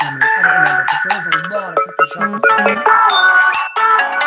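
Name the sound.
mobile phone ringtone ringing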